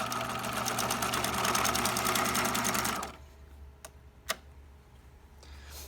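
A sewing machine runs steadily in a fast, even stitching rhythm for about three seconds of back stitching, then stops, leaving a quiet room with a couple of sharp clicks and taps.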